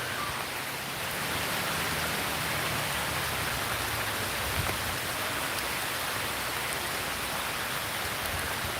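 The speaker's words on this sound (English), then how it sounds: "That's proper rain, people. Proper rain." Heavy rain pouring down outdoors, a dense steady hiss of drops hitting surfaces, loud and continuous with no breaks or voices.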